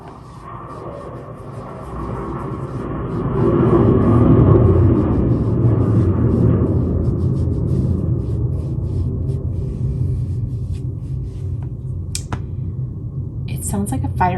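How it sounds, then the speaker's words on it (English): A fighter jet passes overhead, a low muffled roar that swells after a few seconds, holds heavily, then slowly fades back into a quieter background hum. "Sounds like a fighter jet just went by."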